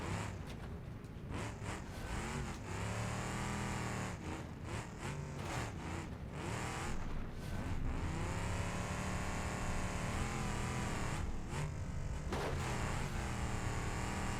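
Trophy truck prerunner racing in BeamNG.drive over a stadium track's whoops, its engine droning loud and steady with revs rising and falling as it bounds across the bumps.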